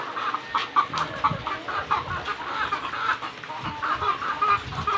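Laying hens in a warm egg-laying coop cluck and chatter through feeding, overlapping calls from several birds close by with no speech.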